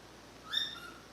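A pet bird called Whistle gives one faint, brief whistling call, rising and fading within about half a second against quiet room background.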